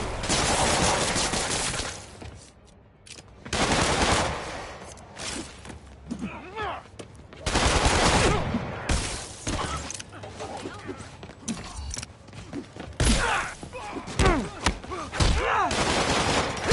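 Enemy thugs shoot at Spider-Man in Marvel's Spider-Man game, with bursts of rapid gunfire in several loud clusters, mixed with impacts, shattering and scuffle noises across a chaotic fight.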